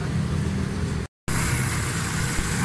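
A Suzuki Cultus three-cylinder car engine runs at a steady, loud idle close by, its low rumble broken once by a brief cut to silence before carrying on.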